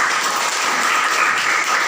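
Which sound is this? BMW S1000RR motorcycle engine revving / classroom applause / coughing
classroom applause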